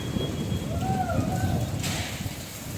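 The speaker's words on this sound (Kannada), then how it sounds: "ಈಗ ಭಾರಿ ಮಳೆ ನೋಡಿ ಯಾವ ರೀತಿ ಮಳೆ ಬರ್ತಾ ಇದೆ" Heavy rain after a windstorm hisses steadily over Yadgir city beneath a low rumble, with a brief tonal whine in the middle and a burst of brighter splashing near the end.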